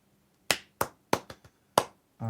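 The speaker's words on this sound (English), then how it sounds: "Clap for yourself." About six sharp, separate claps in an uneven rhythm, close and distinct against near silence, from a single person at the end of a beginner piano lesson.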